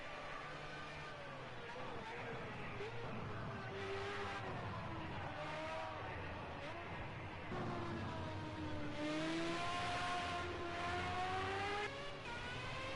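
Formula-class open-wheel racing car engine in the Project Cars racing game at Silverstone, a high revving whine rising and falling through gear changes, steady and fairly loud throughout, with a voice talking over it.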